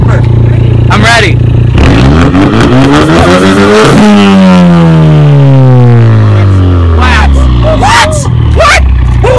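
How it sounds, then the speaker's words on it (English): A 2016 Ford Mustang EcoBoost with an aftermarket exhaust system revs loudly up and down close by, its engine pitch swooping through several sharp climbs and falls, with people talking over and around it. "This car has an exhaust system on it. I want you to hear it."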